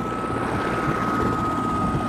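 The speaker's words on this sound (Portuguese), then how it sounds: "o helicóptero do SAMU encostou ali" SAMU ambulance helicopter landing nearby at a highway crash scene, a loud steady rotor and turbine roar with a sharp high whine running throughout, no voices.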